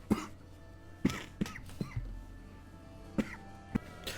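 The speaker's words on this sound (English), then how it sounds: "Sorry about that. I had to really cough." Several short, sharp cough-like bursts spaced irregularly, fairly faint and muffled, over a quiet low hum, during Fallout 4 gameplay.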